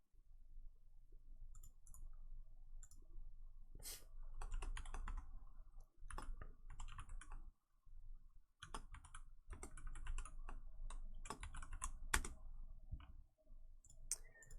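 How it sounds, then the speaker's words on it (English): Computer keyboard typing at close range, quiet clicks and keystrokes in irregular bursts with short pauses between them, no voices. "Had a double keystroke there."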